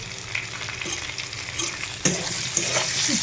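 Potato pieces frying with salt and turmeric in a pan for aloo dum, a steady close sizzle with a spoon scraping and stirring through them, a louder burst of frying partway through, and no talking.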